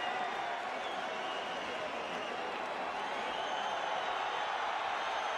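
A boxing arena crowd at Staples Center keeps up a steady, distant roar, with faint cheering and scattered applause blended into a dense wash of noise and no distinct individual voices.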